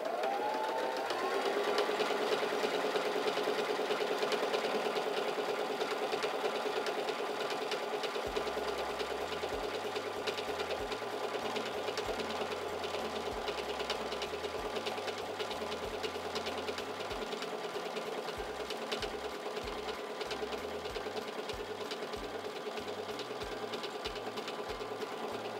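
Singer Simple 3337 sewing machine stitching through fabric, a steady rapid mechanical whirring and needle chatter that runs continuously for a long stretch at moderate level, with no talking.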